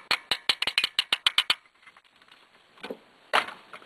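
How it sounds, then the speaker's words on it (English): Roughly ten quick, sharp metallic taps from a screwdriver knocking at the injection pump cover on a 6.2L diesel, a fast series of close, loud strikes, then a few softer scrapes and one last firm knock. "You just tap it or something with a screwdriver."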